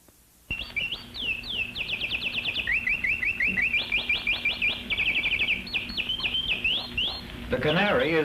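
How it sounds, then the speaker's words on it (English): A pet canary sings close by in rapid, bright chirps and trills, repeated in quick runs that carry on steadily with no pauses. "The canary is Louise's pet."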